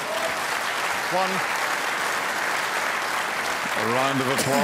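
A snooker crowd at a world championship final applauds, a steady, sustained round of clapping in the arena with a commentator's voice talking over it.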